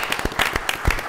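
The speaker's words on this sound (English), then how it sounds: "Let's give him a big round of applause." Scattered clapping at a village council meeting, a handful of distinct claps in the room over about a second, fairly close and moderately loud.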